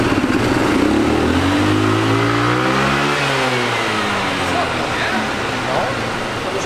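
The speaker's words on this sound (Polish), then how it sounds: "Zobaczymy do ilu się to kręci, co?" Enduro scooter engine revving hard on its first start after a quick conversion, rising and falling in pitch up close as voices talk over it.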